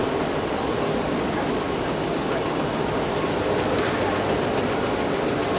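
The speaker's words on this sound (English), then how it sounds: "That's the train." A passenger train runs along the tracks in London, heard from the carriage. A loud, continuous rumble and roar carries faint rhythmic clatter from the wheels and holds steady throughout.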